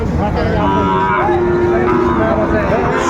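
Shahiwal bulls and calves at a busy cattle market in Dinajpur, with a drawn-out moo rising over dense crowd chatter and ambient noise, steady and fairly loud.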